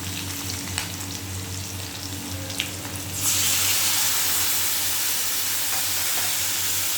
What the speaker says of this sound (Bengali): মশলাটা দিয়ে একটু নাড়াচাড়া করে নেব